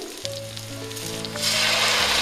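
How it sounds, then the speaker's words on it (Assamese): Onions and green chilies sizzle in hot oil with five-spice for a spiny gourd curry, a close, loud frying hiss that swells over a low steady hum. "পাঁচফোৰণ দিছোঁ তেলত। সেইখিনি তেলতে পাঁচফোৰণ মই দি দিলোঁ। পিঁয়াজ দি দিলোঁ, কেঁচা জলকীয়া দিছোঁ"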